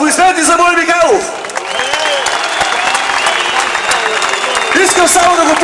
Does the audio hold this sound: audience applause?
yes